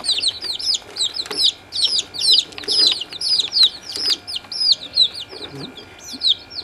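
Baby junglefowl chicks chirp and peep continuously in dense, overlapping high calls while eating mealworms, close by, with soft clucking beneath.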